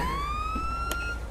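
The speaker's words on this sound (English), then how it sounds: "Oh crap, I got my siren." A steady police car siren tone from the GTA 5 video game holds loud and close, climbing slightly in pitch over a low engine rumble, with one brief sharp click partway through.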